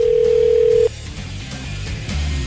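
A telephone call being placed, with a steady dial tone cutting off into a brief stretch of line noise and faint connection hum, loud and close as if heard through the handset.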